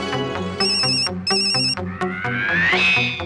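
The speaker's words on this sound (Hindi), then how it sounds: "नाम लिया और उनका फोन आ गया।" A mobile phone ringtone plays loudly, a melodic electronic jingle of repeated bright tones ending in a rising phrase, with no talk over it.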